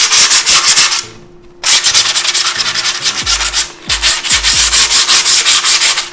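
Skateboard grip tape edges are sanded along the board with loud, close, rhythmic back-and-forth scraping strokes. The scraping pauses twice briefly, then resumes at the same brisk pace.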